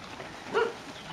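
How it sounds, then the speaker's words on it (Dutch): A single short dog bark or yelp at a small animal shelter, heard once mid-way at moderate distance over a quiet room hum. "Alle hondjes."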